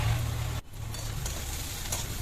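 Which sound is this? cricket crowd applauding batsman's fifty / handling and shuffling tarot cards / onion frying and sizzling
onion frying and sizzling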